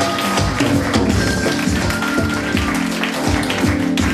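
Wedding guests clap in a steady, close, loud patter that runs throughout, mixed with some background clatter and festive noise.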